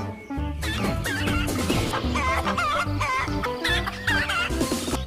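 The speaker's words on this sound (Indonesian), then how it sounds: "ada ayam jago" Chickens cluck busily with a rooster among them, clustered, close and fairly loud with repeated squawks and clucks layered over one another and no talk in the clip.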